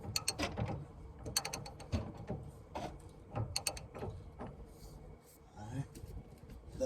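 A pitman arm puller is tightened on a car's steering linkage, giving a series of close metallic ratcheting clicks and clanks in uneven bursts, with a voice talking quietly at times.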